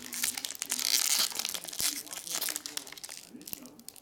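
A 2023/24 Donruss Soccer trading card pack is torn open close up, with bursts of crinkling and tearing foil wrapper and a few sharp crunches.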